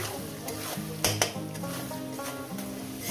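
Sliced onions fry in a pan for a spicy katla fish kosha, a lively close sizzle broken by a couple of sharp stirring scrapes of a utensil against the metal.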